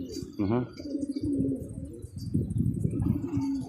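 Pigeons cooing at a rooftop pigeon loft, soft low repeated coos under steady background voices and chatter.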